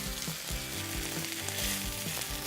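A steak sears in shimmering grapeseed oil in a pan with a loud, dense, continuous sizzle and crackle, close and steady throughout, with no voices.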